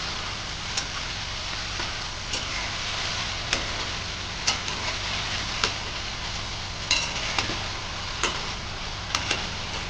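Okra (bhindi) being stirred in a pan for a mustard bhindi dish, a steady frying sizzle with periodic light clicks and scrapes of the spoon against the pan, close and continuous without talk.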